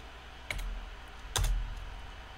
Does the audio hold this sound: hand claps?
no